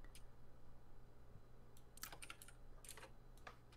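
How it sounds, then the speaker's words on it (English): Faint keystrokes on a computer keyboard come through an open voice-chat microphone during a Tabletop Simulator game session, isolated taps early on, then a quick flurry of typing in the latter half over a low steady hum. "That typing is really distracting."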